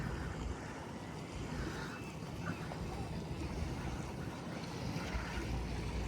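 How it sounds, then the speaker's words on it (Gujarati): A small boat runs past on open harbour water at a wharf lined with colourful floating homes, its steady hull-and-water rush and low drone mixed with wind buffeting the microphone and lapping waves throughout. "આ જો પાછી નાની બોટ આવી ગઈ બીજી."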